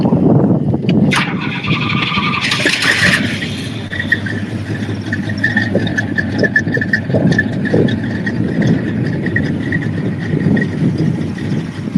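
A second-year Pontiac GTO muscle car engine starts and revs on a lot. It is a loud, steady, close rumble with a brief higher surge early on, then holds at a strong, even drone for the rest.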